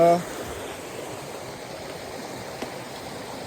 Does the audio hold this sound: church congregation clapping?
no